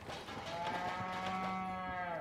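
A cow moos in the Resident Evil 4 Remake video game: one drawn-out, tonal moo rises over the quiet game ambience, fairly near, with no talk.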